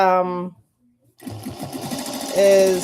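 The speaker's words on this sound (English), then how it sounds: "So we're gonna sew it down nicely." A sewing machine stitches pillowcase fabric in a fast, close, mechanical whir with rapid rhythmic chatter. Someone talks briefly before it starts.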